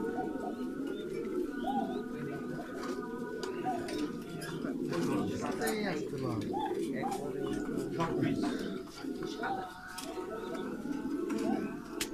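Pigeons of several fine breeds on a pigeon farm in Bangladesh coo repeatedly at close range, their soft rolling calls layered over one another while a person talks throughout.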